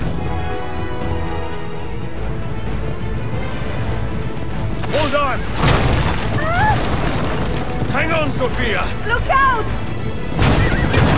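A horse whinnies several times amid booming crashes and impacts in the video game Assassin's Creed Revelations, with a player talking over the noisy gameplay.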